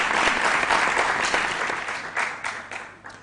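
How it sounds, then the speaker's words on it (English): A school quiz competition audience applauds warmly, a dense steady clatter of many hands that gradually thins out toward the end. "A round of applause"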